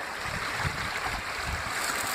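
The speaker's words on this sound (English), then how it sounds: "Babbling Brook." Babbling brook beside a hiking trail in the Algoma highlands in spring, a continuous close trickle and gurgle of running water at a steady level with no talk.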